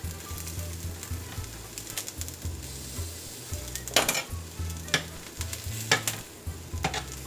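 Garlic and pepper roasting in a hot pan while salsa verde is made, giving a steady close sizzle with repeated stirring and clinks of a utensil against the pan.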